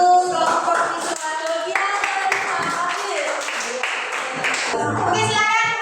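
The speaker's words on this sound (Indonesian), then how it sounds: "tepuk tangan untuk kelompok visual" Clapping from a classroom of children applauding a student group, steady and fairly loud across the clip, mixed with young voices and chatter.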